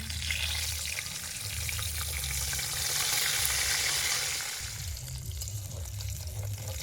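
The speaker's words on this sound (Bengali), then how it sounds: "অল্প অল্প করে ভাজছি ছোটো ছোটো করে সেটা দিয়ে দিচ্ছি" Small batches of Jamuna river fish fry in oil during outdoor village cooking on the riverbank, giving a steady, moderately faint sizzle under a breezy, low rumble of wind, with no talk.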